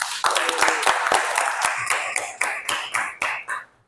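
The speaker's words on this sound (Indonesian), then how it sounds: "Tepuk tangan." Students in a classroom clap for a group that has just presented, a short burst of several hands clapping close by, uneven and quick before it fades out.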